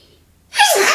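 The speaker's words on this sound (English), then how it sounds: "I'm gonna sneeze." A single sharp human sneeze bursting out after a quiet moment, close and loud, with no talk around it.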